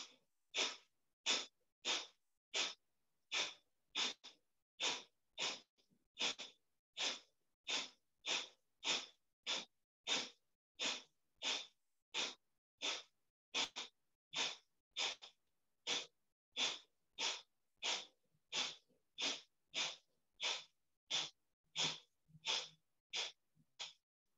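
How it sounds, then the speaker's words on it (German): Forceful rhythmic exhalations in a guided breathing exercise, about thirty sharp, evenly spaced puffs of breath repeating steadily, close and alone with no talking. "Tief ein, Brust raus, ausschnaufen und dann mit dem stoßenden Atem anfangen."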